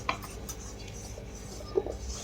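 A small spoon spreads oil over dough, making a couple of faint clinks and light rubbing scrapes in a quiet, brief moment.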